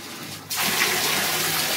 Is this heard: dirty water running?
yes